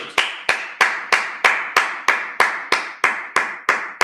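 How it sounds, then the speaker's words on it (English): Steady, evenly paced clapping at a Sabbath church service: about a dozen sharp claps, each roughly a third of a second apart, loud and close, with no talking. "Yeah, clap it up."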